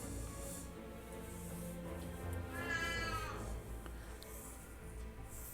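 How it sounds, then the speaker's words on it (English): A cat named Coconut lets out a single drawn-out meow over low background hum, moderately close and alone without talk. "You hearing this sassy cat in chat?"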